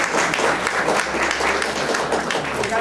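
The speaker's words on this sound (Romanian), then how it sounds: "pe care s-o aplaudăm." Applause for Wanda Sachelarie Vladimirescu at a gallery event fills the room continuously and evenly, a dense crowd clapping at moderate loudness from start to finish.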